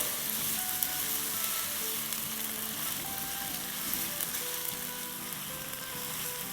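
Chicken keema do pyaaza mixture sautéing in a pan: a loud, constant sizzle with faint crackles running evenly throughout, no talking.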